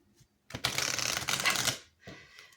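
A deck of tarot cards is riffled in a quick, close shuffle, a dense crisp flutter lasting about a second, followed by a softer brief rustle of the cards settling.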